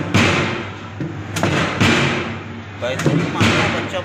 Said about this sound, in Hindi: घोटा मारा जा रहा हलीम का, बेहतरीन तरीके से मार रहे हैं